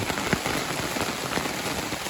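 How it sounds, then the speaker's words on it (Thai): Heavy rain pounding down in the countryside, a dense, unbroken hiss of drops beating on surfaces, loud and close with no break. "ตอนนี้ฝนตกหนักมากๆนะครับ"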